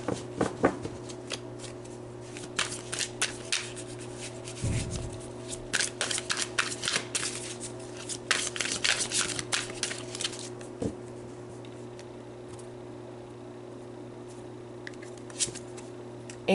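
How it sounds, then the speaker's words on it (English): Tarot cards are shuffled and pulled from the deck in bursts of riffling, slapping and flicking, close up, with pauses between handfuls and a faint voice at one point. "let's just pull 3 more cards for outcome"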